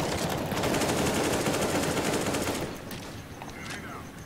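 Sustained automatic gunfire in the video game CS:GO, a dense rapid rattle that runs loud for about two and a half seconds, then drops to quieter scattered shots and game noise.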